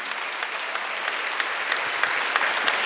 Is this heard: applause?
yes